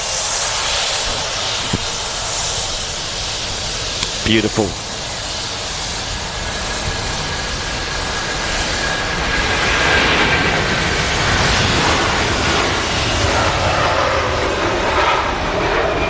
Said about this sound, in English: got the Virgin Atlantic A330 now rolling as well